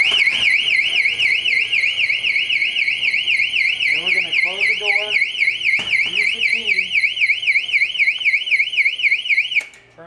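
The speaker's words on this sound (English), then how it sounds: "the person would push the bar firmly in, unlocking the door and making the alarm sound" A loud, piercing ECL-230D electronic exit door alarm wails in a rapid warbling tone after the push bar is pressed, with a person talking underneath before it cuts off near the end.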